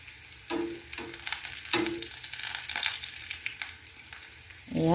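Sweet potato frying over a low flame, a soft steady sizzle broken by several clattering scrapes as the pieces are flipped in the pan, no voices.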